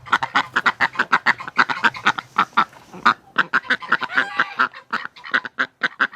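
A duck quacks rapidly and repeatedly at close range in a steady run of loud, nasal calls during winter, with no one talking.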